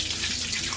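Dalia (broken wheat) being rinsed in a bowl of water at home, with water splashing and trickling steadily and close by for a brief moment, no voices.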